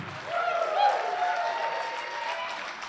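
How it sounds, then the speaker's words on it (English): Wedding reception guests applaud the best man after his toast, a dense, steady wash of clapping that swells slightly and holds for about three seconds. "Keep that applause going for your best man, Vinny."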